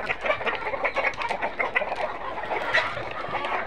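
Tiger breed hens and roosters on a farm cluck and call continuously, a busy flock close by with overlapping calls and no talk.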